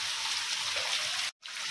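Steady hiss of heavy rain falling in a village, a continuous broadband wash that cuts out abruptly for a brief moment before resuming.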